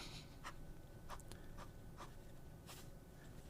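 A fountain pen with a tuned, wet nib with an italic touch scratches across paper in short, quiet strokes, close and alone with no talking.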